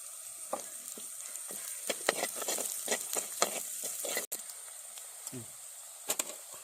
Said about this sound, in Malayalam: ഒരു കാൽ സ്പൂൺ ഉലുവ ഈ വെളിച്ചെണ്ണയിലേക്ക് കിട്ടുക അതിനകത്ത് നിന്ന് മൂക്കണം